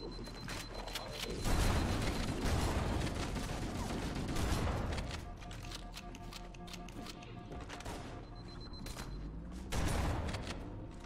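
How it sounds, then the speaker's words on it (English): Halo: Combat Evolved gameplay with repeated grenade explosions and gunfire crackling in a dense, continuous battle din, with heavier booms rising at intervals. "So those explosions, is it just because the marine Floods are dropping grenades?"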